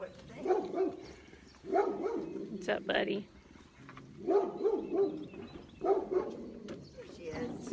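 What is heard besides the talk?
dogs barking in the distance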